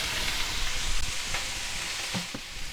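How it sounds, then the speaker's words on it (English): Minced garlic and butter sizzle steadily in a hot pan during a shrimp and vegetable stir fry, a continuous broadband crackle with a few brief clinks near the end, no voices. "we're going to take our garlic here and we're going to put that in the pan. Now to that we're going to add a little bit of butter"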